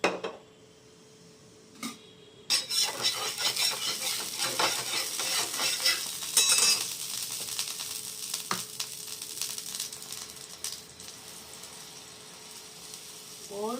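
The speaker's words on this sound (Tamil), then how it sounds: "கொஞ்சம் எண்ணெய் ஊற்றிக்கிறேன்" Oil poured into a hot pan for dosa sizzles and crackles steadily after a quiet start, with clinks of a metal utensil against the pan standing out, close and moderately loud.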